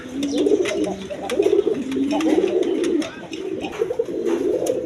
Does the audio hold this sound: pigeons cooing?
yes